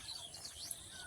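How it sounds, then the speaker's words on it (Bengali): Small birds chirp faintly from a distant tree in a village morning setting among rice fields, thin high tweets scattered over a soft steady background hiss. "পাখিদের কলতানো শোনা যাচ্ছে"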